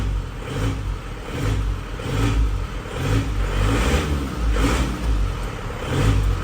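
A 2004 Isuzu Panther engine heard from outside the car revs repeatedly, each low, rumbling rise and fall pulsing about once a second over a steady clattering idle, close and fairly loud, with no talk.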